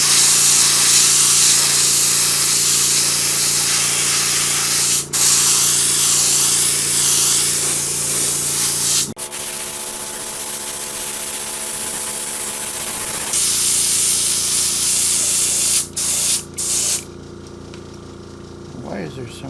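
An airbrush back-flushes paint into its bottle, with loud close hissing bursts broken by sharp stops, a quieter bubbling gurgle stretch in the middle, then more short hissing spurts.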